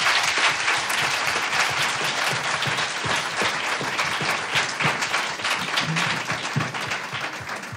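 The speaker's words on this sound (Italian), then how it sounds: "So we need an applause." Audience applause at an academic lecture event, dense sustained clapping from a full room, loud and steady, tapering slightly at the end.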